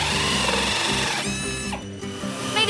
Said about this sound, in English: Can you hear the sound of the drill making the plug hole?